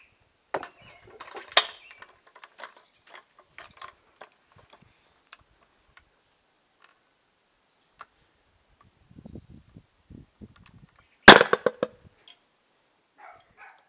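Airsoft RPG-7 launcher firing an Eagle Force short grenade loaded with 96 BBs: scattered faint clicks and handling noises, then one sharp, loud, broadband pop near the end, followed by a few soft ticks.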